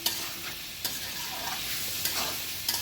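Potatoes go into a hot pan and fry with a steady sizzle, broken by a few brief scraping stirs.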